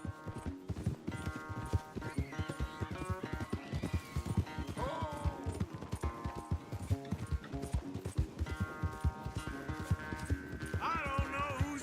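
Hooves clip-clop at a rapid galloping rhythm in the Western video game Red Dead Redemption 2, mixed with game music and occasional whinnies, the hoofbeats close and steady throughout.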